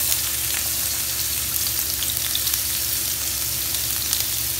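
Finely chopped onions frying in a small amount of oil, giving a steady, close, dense sizzle that continues evenly throughout with no talk.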